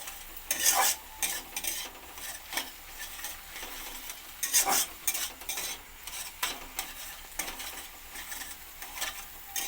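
Egg bhujia with yardlong beans, potato and salt is stirred in a hot pan, with repeated bursts of spatula scraping over a low, steady sizzle, close and fairly loud.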